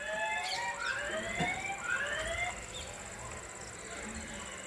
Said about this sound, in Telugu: సైరన్ వినిపిస్తుందా?